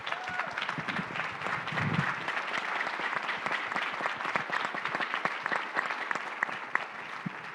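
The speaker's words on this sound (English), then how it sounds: "Please join me in a round of applause for our terrific panelists" A large audience applauds panelists at a sustainability discussion on Tampa Bay's water, the clapping dense, even and sustained throughout.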